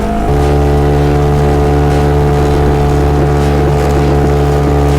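A hydrofoil-fitted outboard motorboat engine drones loudly and continuously close by while under way, a steady motor hum with a constant pitch.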